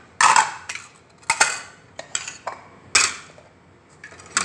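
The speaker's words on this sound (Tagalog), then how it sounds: "mag-arrange muna tayo ng pinggan" Ceramic plates being arranged, with several sharp clinks and clatters of dishes set down one after another at close range and no talk.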